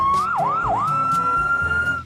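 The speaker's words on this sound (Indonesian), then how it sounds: "lihat teman, di sini ada pemadam kebakaran" A toy fire truck's electronic siren wails close and loud, a sustained tone that dips twice in quick warbles before holding steady, with faint rustling underneath.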